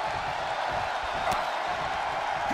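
Arena crowd in the WWE 2K24 wrestling video game, a dense continuous roar of cheering that stays loud and even throughout.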